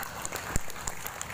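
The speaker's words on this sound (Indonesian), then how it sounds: "Iki ape tepuk tangan" Brief patter of clapping from a school audience at a first performance by madrasah junior high students, dense and steady with a couple of sharper claps standing out.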